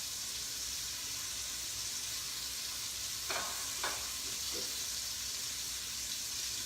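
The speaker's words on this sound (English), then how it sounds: "Obviously, you can hear the sizzling now, right?" Chicken piccata sizzles as it browns in a frying pan, making a steady, fine hiss with a few soft clinks of a utensil in the middle.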